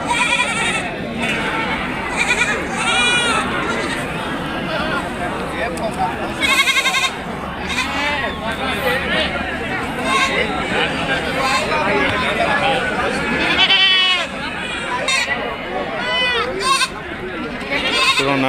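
Goats bleat again and again amid a busy crowd at a goat and sheep livestock market, their wavering cries rising over constant chatter and babble of many voices.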